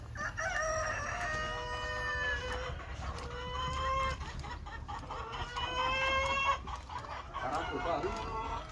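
On a farm housing about a thousand Tiger breed parent chickens, several roosters crow in long overlapping calls amid steady clucking from the flock, with a low hum underneath.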